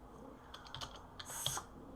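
Keys clack on a computer keyboard in short, irregular bursts of quiet, close taps, with a brief cluster of faster keystrokes near the end and no voices.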